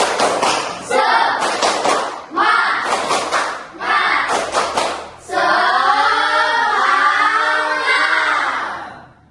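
Children in a classroom perform a "tepuk semangat" clapping routine, loud bursts of rhythmic group claps in several short sets, ending in a long sustained shouted chant.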